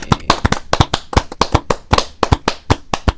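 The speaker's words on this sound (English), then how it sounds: "No, all right, clap again." A quick run of sharp, loud hand claps, about twenty in an uneven rhythm, sounds up close before a stream recording begins.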